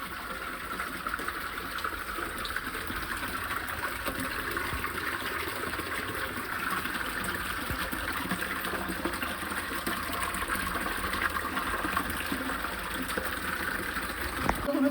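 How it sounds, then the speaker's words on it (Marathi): Water gushes without pause from a stone spout shaped like a cow's mouth at Shri Kshetra Amruteshwar temple, making a steady, continuous rushing flow that stays close and even throughout. "तीनशे पासष्ट दिवस पाण्याचा वाह येत असतो"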